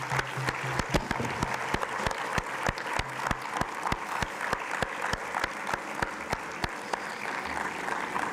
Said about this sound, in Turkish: hep birlikte alkışlıyoruz Kibariye adına